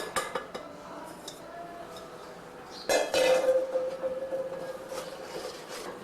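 Gram flour tipped into hot syrup and stirred in a pan for Mysore pak, clinking and scraping of a spoon against metal with a soft sizzle and faint tapping, close and fairly quiet.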